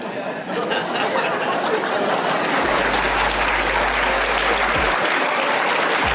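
A live audience at a motivational talk bursts into loud applause with chatter and a little laughter, sustained clapping filling the room.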